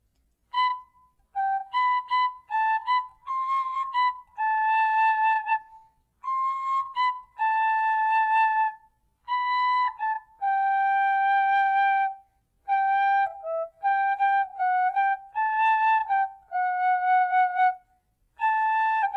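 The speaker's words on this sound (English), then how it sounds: "So grab a C whistle or a D whistle and let's get started." A tin whistle plays the melody of a song in short, clear, bright phrases of separate notes with brief silent gaps between them. It is solo, close and unaccompanied.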